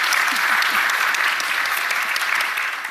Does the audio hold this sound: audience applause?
yes